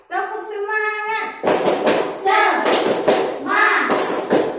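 A classroom of students performs a rhythmic spirit clap, sharp group claps landing in quick patterns after an opening stretch of a single sustained voice, with chanting voices mixed through the claps.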